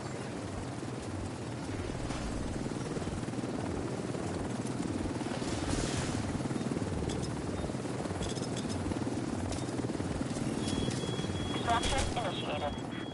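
An extraction helicopter arrives in the Division 2 video game, its steady rotor drone filling the scene at constant loudness, with faint game effects and radio chatter beneath.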